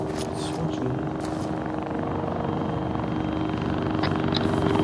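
Helicopter in Arma 3, a steady, droning rotor and engine roar held at constant loudness for several seconds with faint voices underneath.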